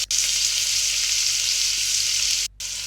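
Finely chopped onions and green chilies fry in a pan with a steady, dense sizzle that runs unbroken, close and fairly loud, dropping out only briefly near the end; no voices.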